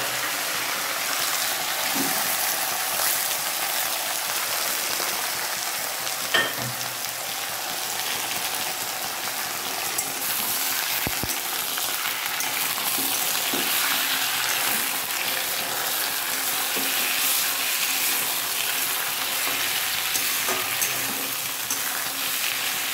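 Mixed vegetables frying in a wok after tempering, a constant soft hiss of sizzling oil with occasional faint stirring scrapes, steady and fairly quiet with no voices.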